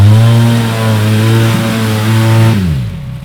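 A UTV engine revs hard as the machine digs into deep sand on an off-road trail ride in Canada, with a loud sustained drone that wavers in pitch before dropping away near the end.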